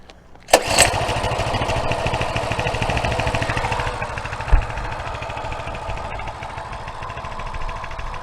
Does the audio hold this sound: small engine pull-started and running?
yes